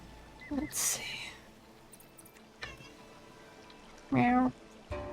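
A house cat gives two short, close, fairly loud meows several seconds apart, with quiet rustles and faint soft sounds in between.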